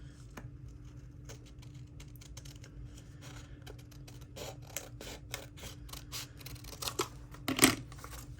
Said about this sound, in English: Let me cut this out.